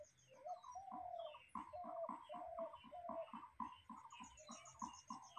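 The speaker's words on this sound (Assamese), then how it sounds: "চাওক, ইমান ওচৰতে চৰাইটো।" Small pigeon-like bird cooing close by, settled near young banana plants: a steady run of soft, low repeated coos in an even rhythm, clear against a quiet background.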